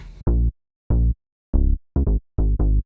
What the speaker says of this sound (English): So this is one of the bass sounds that I found.